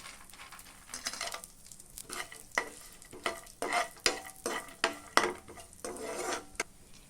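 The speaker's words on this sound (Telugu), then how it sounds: "ఈ నెయ్యిలో డ్రై ఫ్రూట్స్ వేసుకొని దోరగా వేయించుకోవాలి" Cashews, almonds and raisins being stirred in ghee in a pan, with a soft sizzle and a quick run of scraping, tapping utensil strokes, close but fairly quiet.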